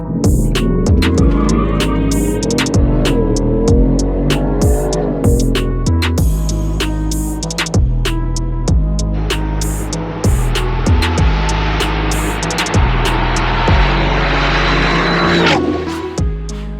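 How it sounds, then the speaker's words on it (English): A 2021 Ford F-150 fitted with a Whipple supercharger makes a loud, sustained engine roar through a quarter-mile run, with repeated rising pulls broken by sharp gear-shift breaks. No one speaks. "Let me show you a quarter mile run."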